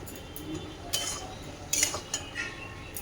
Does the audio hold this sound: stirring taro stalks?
yes